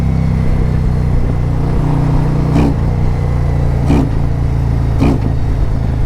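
A 2024 Harley-Davidson Road Glide with a Screaming Eagle Stage 1 tune idles loudly and steadily, with three sharp throttle blips revving the exhaust at intervals.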